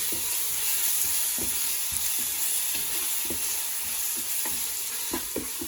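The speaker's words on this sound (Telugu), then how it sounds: "సో ఈ అల్లం వెల్లుల్లి పేస్ట్ పచ్చివాసన పోయే వరకు ఫ్రై చేసుకోండి." Ginger garlic paste frying in a pan for keema biryani, a loud continuous hissing sizzle with periodic scraping stir strokes, close up and without talk.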